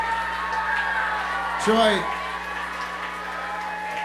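Live-performance audience noise, a steady murmur of crowd and scattered applause, sits under a voice, with a brief louder swell of cheering in the middle.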